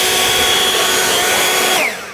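Greenworks cordless leaf blower running on its turbo setting, a loud close steady high whine and rushing air that holds level, then winds down sharply at the end.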